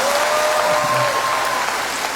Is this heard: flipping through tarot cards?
no